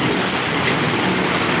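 Heavy typhoon rain pours down in a steady, dense, loud roar with no breaks, filling the space close by without any voices.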